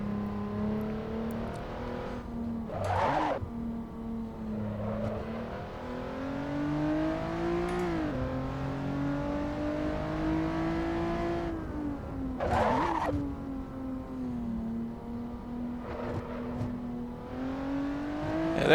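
A Honda NSX in Assetto Corsa accelerates and corners, its engine note climbing and dropping across gear shifts, with bursts of tire squeal through the turns; steady and fairly close throughout.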